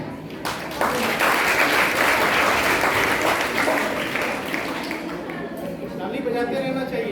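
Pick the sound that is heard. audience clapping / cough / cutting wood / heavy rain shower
audience clapping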